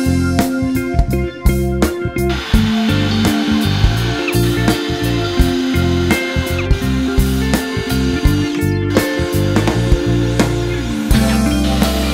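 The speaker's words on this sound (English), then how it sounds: "get a good power drill" A cordless power drill whirs in short, repeated bursts, starting and stopping with clicks and knocks between runs, close and loud.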